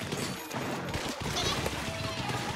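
Rapid bursts of ink-weapon fire crackle through a noisy mix in the video game Splatoon, with voices talking over the shots.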